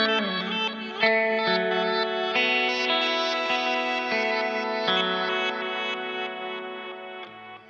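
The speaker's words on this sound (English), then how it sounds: "I really like to use the slip function for like a reverse octave up delay sound like this." Sustained electric guitar notes swell backward into a shimmering, pitched-up delay, layered echoes stacking into a dense, chorused wash.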